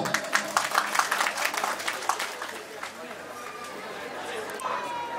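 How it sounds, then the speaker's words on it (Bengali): An audience at an outdoor union welfare picnic gathering claps, a burst of dense clapping over crowd chatter that fades after a few seconds into a steady murmur of voices. "সবাই একটু করতালি দিব"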